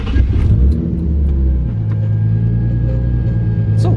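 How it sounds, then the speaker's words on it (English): Turbocharged Nissan 350Z engine idling steadily just after startup, a loud, continuous low rumble with a steady drone throughout and a brief throttle swell near the start. "I started the car right now, and I started up normally"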